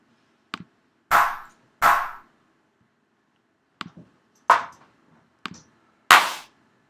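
Dry vintage drum-machine clap sample from the Vintage 09 kit, auditioned as separate sharp hits with short decaying tails and gaps of silence between them, some softer ticks mixed in, heard alone.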